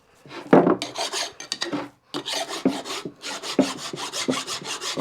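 Hand file rasping across a metal workpiece being cleaned up before going into a four-jaw chuck, close and loud, with repeated irregular back-and-forth strokes and a short pause in the middle.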